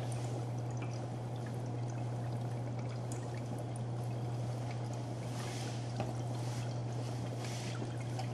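Dry ice in water churns with a steady bubbling, hissing fizz after Dawn dish soap is poured in, a continuous close wash of sound under a low hum.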